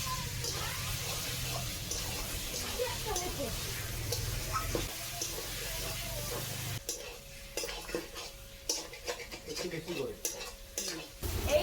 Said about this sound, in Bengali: দেখো বন্ধুরা দেখতে পাচ্ছেন চিকেন রান্না হচ্ছে চিকেন কষা কষা চিকেন